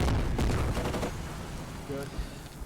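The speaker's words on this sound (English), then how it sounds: "I waste all my shots on this PMV trying to kill it" Gunfire in the military shooter game Squad, aimed at an armored vehicle, a loud volley of rapid shots in the first second that fades into rumbling battle noise with a faint mechanical clank later.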